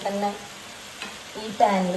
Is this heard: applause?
no